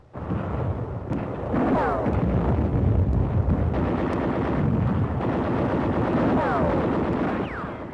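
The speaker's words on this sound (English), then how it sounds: "mortar, machine gun, and small arms fire meet the men as they hit the shore" Wartime mortar, machine gun and small arms fire during a 1944 beach landing: a dense, loud barrage of bursts and booms with whistling rounds, continuous throughout.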